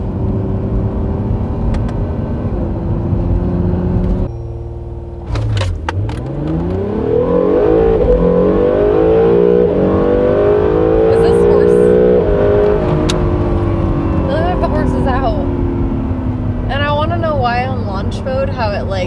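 A Mitsubishi Evo Final Edition launching hard and accelerating, its engine note dropping then climbing steadily in pitch through a long rising pull, loud and close inside the cabin with people talking over it.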